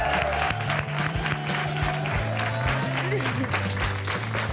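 Studio audience applause on an afternoon TV program, continuous clapping mixed with music and voices throughout, fairly loud and dense for the whole stretch.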